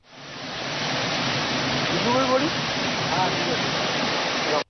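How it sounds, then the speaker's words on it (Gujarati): Jamjir waterfall near Jamwada village in Gir Somnath gives a steady, loud broadband roar of falling water throughout, with a faint voice briefly audible partway through. "ટીવી પર દેખાતા આ દ્રશ્યો છે ગીર સોમનાથના જામવાડા ગામ નજીક આવેલા જમજીર ધોધના."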